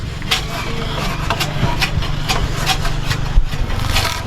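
Bark scraped from a rubber tree makes steady, loud rasping strokes in a quick repeating rhythm, close by, over a continuous low engine-like hum.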